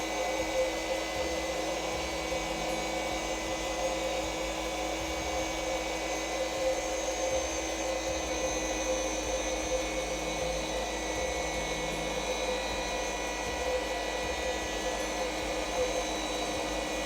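Car polishing machine running on automotive paint, a steady continuous electric whir with a faint rhythmic wobble, close and even in level for the whole stretch, with no speech over it.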